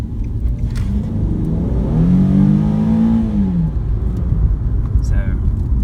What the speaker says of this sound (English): If you haven't heard the engine accelerate already, I'll give it just a little bit of a chance right here.